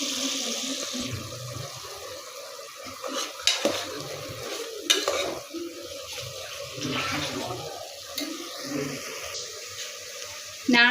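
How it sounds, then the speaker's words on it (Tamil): A spoon scrapes and stirs through bubbling vegetable biryani in a pot, with irregular knocks against the sides over a low simmering hiss. "நல்லா கொதிக்குது பார்த்தீங்களா? இப்போ நல்லா கிண்டி விடணும்."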